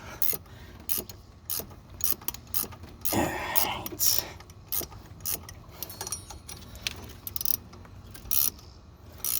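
A ratchet wrench clicks in quick repeated bursts while pressing a pulley onto an F-body car's power steering pump, with metallic ticks and a louder grinding rasp partway through, close and distinct.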